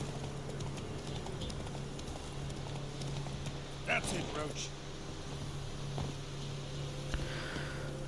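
In The Witcher 3 video game, a ridden horse's hooves clip-clop in a steady, moderately loud rhythm over ambient game sound, with a voice talking over it.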